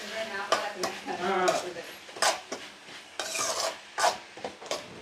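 Onion, curry leaves, coriander and tomato are stirred in a pan for vada curry, with close scraping strokes and faint sizzling in uneven bursts.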